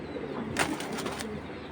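A female Giribaz pigeon of an old original breed gives a brief, soft, close coo lasting about half a second amid quiet background noise.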